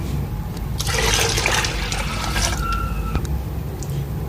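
Water is poured from a jug into a cooking pot while making haleem. It gives a continuous splashing gush for a few seconds with a rising trickle near the end.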